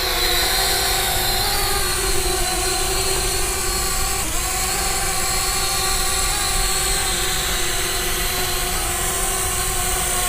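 JXD 523 Tracker mini selfie drone taking off and flying, a steady high whine of small propeller motors, loud and close, holding a constant buzzing tone with slight pitch shifts.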